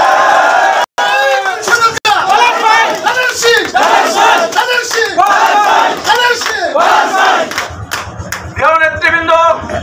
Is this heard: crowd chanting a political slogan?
yes